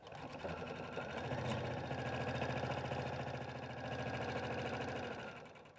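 A sewing machine stitches steadily around the edges of fabric tissue cover pieces, its fast, even mechanical whir running close and continuous, with a brief stop and restart early on.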